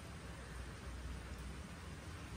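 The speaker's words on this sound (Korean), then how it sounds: "근데 오늘은 빗소리가 너무 좋다." Rain falls steadily outside as an even, dense hiss with no breaks, heard from indoors at a soft, constant level.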